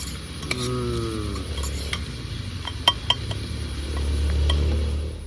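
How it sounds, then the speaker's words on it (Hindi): Fish curry bubbling in a pot over a campsite fire in a forest, with steady low cooking rumble, soft stirring and occasional clinks of utensils against cookware, close by with no talking. "दादा की फ़िश करी भी तैयार हो रही है।"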